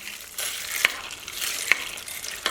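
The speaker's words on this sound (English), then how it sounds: "Alright, now I'm going to mix that all in." Ground beef goulash with elbow macaroni being stirred in a pot: a steady, soft sizzle with three sharp spoon knocks against the side, spaced roughly evenly apart. No voices.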